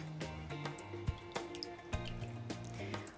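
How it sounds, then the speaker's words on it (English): Water drips and splashes as a cloth bag of coffee grounds is dunked and lifted, giving irregular close drips and liquid trickles with a few sharper plops, with no voice. "then we're going to dunk it in some water"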